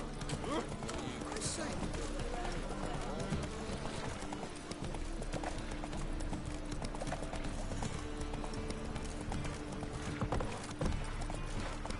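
Horse in The Witcher 3 video game trotting, a steady rhythm of hoof clip-clops under dense game sound and a voice calling out.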